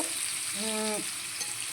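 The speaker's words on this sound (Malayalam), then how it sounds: "ഞാനിങ്ങനെ വറുത്തിട്ട്" Food frying in hot oil in a pan, a short, even hiss of sizzling with a brief tonal hum in the middle.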